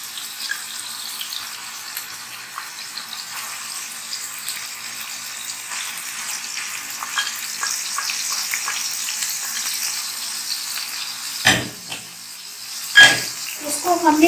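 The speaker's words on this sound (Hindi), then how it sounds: "अब हमने इस ऑयल में मिन्स को आहिस्ता आहिस्ता ऐड करना है, बिल्कुल एहतियात से।" Minced chicken frying in oil in a pan over a medium flame, a steady soft sizzle throughout, ending in a few louder clatters and scrapes from the cookware near the close.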